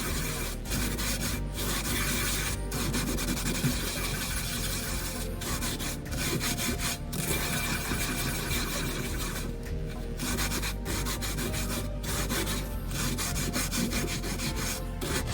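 Black salt being ground around in a pan, a continuous rough scraping and rubbing that runs steadily for the whole stretch at close range, with no voices.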